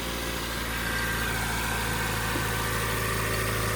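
Nissan 300ZX engine idling at high RPM, a steady droning hum with even vibration and a constant pitch, heard close and alone for the whole stretch.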